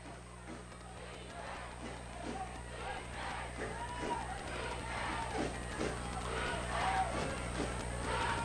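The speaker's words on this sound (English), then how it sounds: "You hear the Montford fans are cheering defense." Montford fans cheer for the defense at a middle school football championship game against Cobb, a steady, distant crowd roar that swells slightly toward the end.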